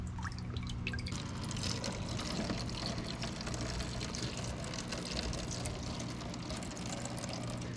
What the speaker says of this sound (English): fill yourself up a 5-gallon bucket of water. Then you can just dip in your watering can.